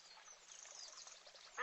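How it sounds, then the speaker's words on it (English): A single duck quacks in one steady, raspy burst lasting over a second, close and clear, followed by a sharp sound at the end. "Here is a duck."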